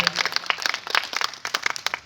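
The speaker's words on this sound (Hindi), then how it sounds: "मैं चाहता हूँ एक बार हमारे जनप्रतिनिधियों के लिए आप लोग जोरदार तालियां बजा दें।" Audience at a Hindi poetry gathering applauds its public representatives with a burst of dense, scattered clapping that stays fairly steady and moderately loud for a couple of seconds.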